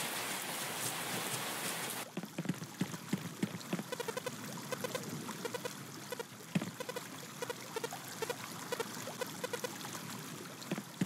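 Rain in the video game Everafter Falls: a steady hiss of falling rain at first, then patter and dripping drops scattered over a softer wash, continuous and moderately quiet with no voice.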